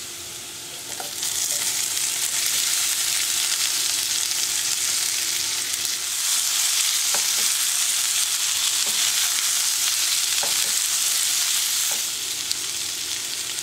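Cooked koorkka (Chinese potato) stir-fried in a spiced pan, a loud continuous close sizzle that starts after a quieter opening, with occasional spatula taps and scrapes, no voices.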